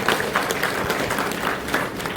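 Steady applause from an audience at a Guru Purnima gathering in Khatoli, Ambala, Haryana, a dense crowd of claps sustained for a couple of seconds.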